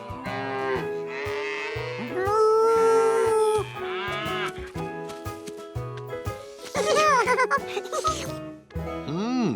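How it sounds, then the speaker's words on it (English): Several loud, drawn-out cow moos follow one another close by, overlapping with other busy tonal sounds and ending on a rising-then-falling bellow. "one great thing about fresh dairy products was the cows."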